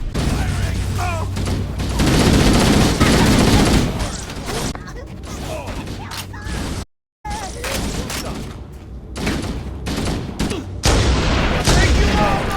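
Sustained gunfire and booming blasts fill a chaotic Halo: Combat Evolved battle against an enemy dropship assault, loud and dense throughout with a brief silent gap midway, while voices shout over the fight.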